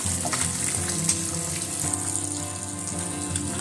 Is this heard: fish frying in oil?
yes